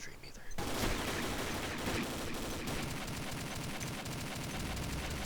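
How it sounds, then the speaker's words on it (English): Dense, continuous automatic gunfire from the online shooter Combat Arms, a loud sustained barrage of rapid shots after a brief quieter start, with no pauses through the rest of the stretch. "Just shoot that guy and then shoot this guy."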